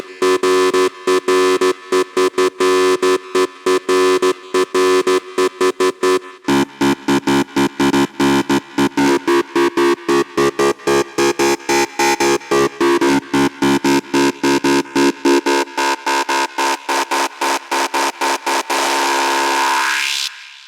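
Heavy acid synth preset for hard trance, a buzzy, gritty lead that stutters in rapid gated pulses, loud and continuous before opening into a brighter sweep at the end.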